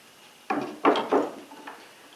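Hammer driving nails into the wooden layers of a homemade bat house, three sharp knocks in quick succession followed by a faint fourth tap, fairly close and alone.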